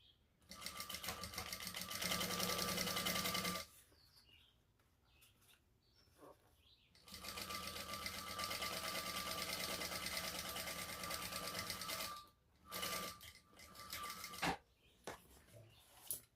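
A sewing machine top stitches a shoulder bag lining in two long, fast, steady runs separated by a quiet pause, ending in a few short bursts of stitching.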